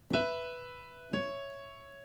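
Two struck piano notes of a Floyd Cramer-style upper slip-note lick in E ring out about a second apart, each decaying slowly with bright harmonics; no one speaks.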